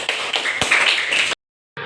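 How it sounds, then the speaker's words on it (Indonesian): Classroom applause: a dense burst of many hands clapping together, close and steady, cutting off abruptly and then resuming briefly after a short silence. "Tepuk tangannya untuk kita semua."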